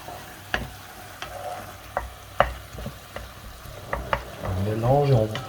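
Bolognese meat sauce of minced meat with herbs, paprika and chili sizzles softly in a pan, with a spoon scraping and tapping in regular strokes, and a voice briefly joining at the end.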